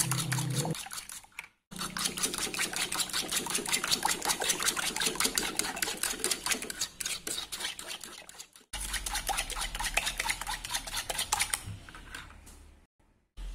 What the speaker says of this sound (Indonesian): Oke, kemudian kita campur saja semuanya ya.